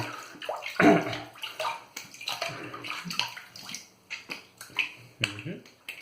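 A Zenith B7 safety razor with a Kotibe wood handle is rinsed under a running tap, with close, uneven splashing and gurgling bursts of water and small clicks.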